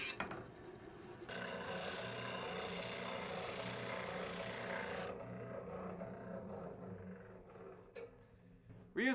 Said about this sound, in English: We're using the oscillating spindle sander to shape these narrow side shelf supports.